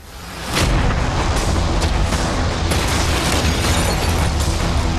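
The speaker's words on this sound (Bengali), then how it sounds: "ক্যানন গুলোকে রেডি করো। দেখা যাক তুমি আগের ফেজ থেকে শিক্ষা নিয়েছো নাকি ক্যানন বলগুলো তোমার ইয়টকে হিট করবে। ফায়ার!" Cannons in a video game fire cannonballs at a yacht, producing a loud, dense barrage of overlapping booms and bursts that rise quickly and roar on continuously.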